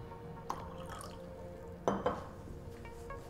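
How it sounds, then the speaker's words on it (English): Hydrogen peroxide and a splash of acid poured into a glass vessel holding an iodide, thiosulfate and starch solution, giving a couple of soft clinks and brief liquid splashes against a quiet background. "I'm going to add a little bit of hydrogen peroxide with a splash of acid."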